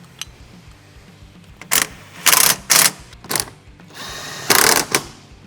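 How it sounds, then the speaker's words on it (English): Shock bolts are tightened on a Kawasaki Teryx H2 side-by-side, a few short bursts of a power tool whirring up close, the last burst longer after a brief low hum, with no talking. "we're gonna go ahead and tighten these shock bolts down"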